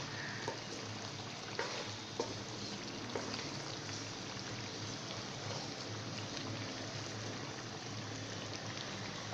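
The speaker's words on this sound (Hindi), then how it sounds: "मसाला अच्छी तरह भुन गया।" Masala for chicken karahi fries in a pan, a steady soft sizzle and crackle with occasional small pops, close and continuous with no talking.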